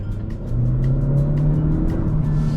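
A 2022 Honda Civic Hatchback Sport Touring accelerates on throttle. After a short quieter start the engine note rises into a steady, close hum with a climbing tone, and no one speaks over it.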